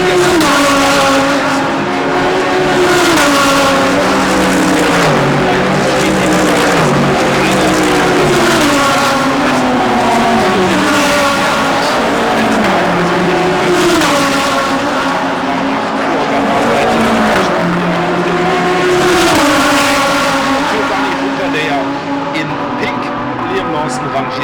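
DTM race cars lapping the Norisring street circuit in Saturday qualifying, engines loud and continuous with rising and falling pitch as cars pass, shift and accelerate, one after another with no talk over them.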